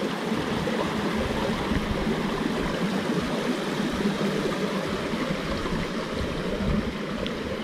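A mountain stream rushes below a drinking-water dam at Khardu near Dharan, making a steady, dense, close wash of flowing water that holds constant throughout.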